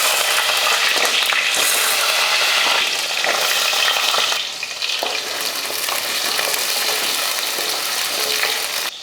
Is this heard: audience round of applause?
no